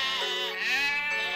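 A sheep bleats alone, close and loud, with one long wavering cry that rises and falls and has no other sound around it.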